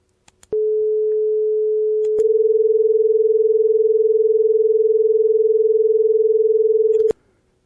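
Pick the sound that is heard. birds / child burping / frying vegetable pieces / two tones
two tones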